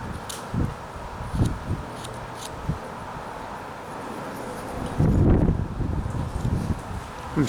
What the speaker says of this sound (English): It's a very windy day today in Texas.